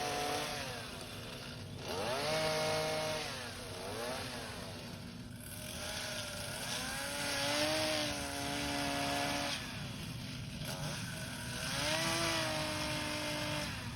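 Chainsaw slowly carving a wooden gnome figure, cutting out excess material behind the beard, with a steady engine drone that rises and falls in repeated revs, close and continuous, with no talking.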